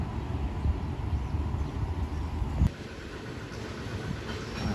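A train arriving at Surat Thani station in Thailand rumbles steadily at moderate distance with a continuous low roar and hiss, a brief thump midway, no voices.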